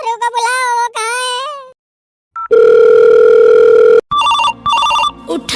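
A cartoon telephone ringing: cartoonish warbling tones give way to a loud steady electronic tone, then a burst of chirpy repeated phone beeps.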